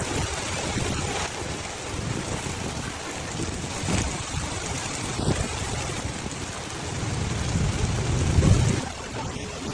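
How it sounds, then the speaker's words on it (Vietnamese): Storm rain pouring steadily during a typhoon in Da Nang, a dense, loud wash of rainfall with faint low rumbles that may be distant thunder, and no voices. "hiện tại thì bây giờ đang chuyển mưa"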